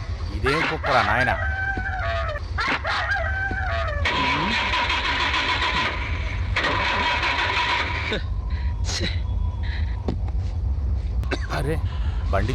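A car engine cranks repeatedly without catching, in bursts of starter whirring with pauses between, amid rooster crowing and clucking from fowl nearby and people talking.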